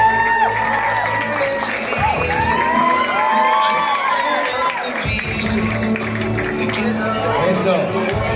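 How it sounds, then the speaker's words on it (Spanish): Guests at a Chinese wedding cheer, whoop and clap for the couple, a lively crowd roar with shouting children and chatter layered over scattered applause. "Aplausos, por favor,"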